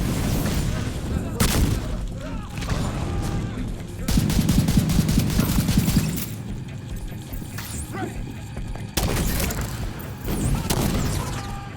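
Bursts of automatic gunfire and heavy impacts in The Division 2 during a heroic Air & Space Museum mission, rapid rattling volleys broken by short lulls, with loud booms and crashes mixed in and occasional talk over the shooting.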